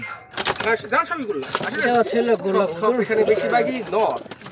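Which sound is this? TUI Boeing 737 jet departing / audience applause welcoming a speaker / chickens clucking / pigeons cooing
pigeons cooing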